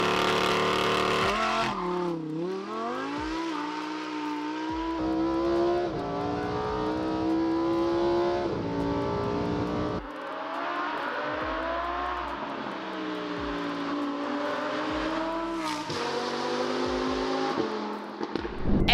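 Lamborghini Huracan Performante with a 5.2-litre V10 engine driving, a continuous loud engine roar whose pitch climbs and falls through repeated revs and gear changes, with no talking.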